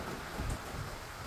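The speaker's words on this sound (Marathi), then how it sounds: "सब जगह बारिश ही बारिश है" Steady rain falls in an even, soft hiss with a faint low rumble underneath; no voices are heard.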